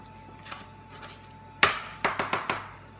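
A knife cuts through carrot ciabatta dough on a board in a few soft taps, followed by one sharp chop and four quick, evenly spaced knocks.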